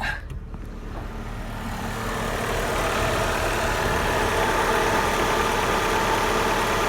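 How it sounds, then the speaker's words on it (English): An Opel Astra G engine idles with a steady mechanical hum, air conditioning on, joined by a rising whoosh of blower air that builds and holds loud. "we have the engine running, air conditioning's on."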